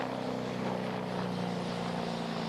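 A new Italian helicopter, an Agusta A129 International, flies a demonstration at the Celje airshow. Its engine and rotor give a steady, loud roar with a rhythmic blade chop, continuous and unbroken.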